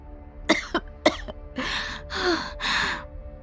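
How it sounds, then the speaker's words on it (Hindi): A few sharp, close coughs in quick succession, followed by three longer, harsh raspy breaths or hacking coughs, loud and alone. "जोर से खांसी आ गई"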